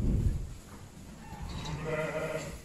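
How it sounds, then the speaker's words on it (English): A ewe in the final stages of lambing on a farm gives a few faint, drawn-out bleats near the end, after a brief low thump and some quiet rustling at the start. "This sheep is in the last stages of lambing,"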